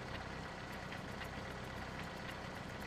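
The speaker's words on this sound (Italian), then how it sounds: "Il trattore sta spingendo lentamente la pallina" A small tractor engine in the Bad Rats puzzle game, slowly pushing a ball, a steady low mechanical chugging hum, faint and continuous with no talk.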